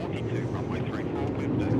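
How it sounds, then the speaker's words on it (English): An Emirates Airbus A380 arriving at Melbourne Airport gives a steady, continuous jet roar that holds at an even level for the whole stretch. "So here comes that Emirates aeroplane,"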